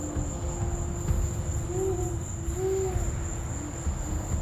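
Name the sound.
owl hooting at night in the Amazon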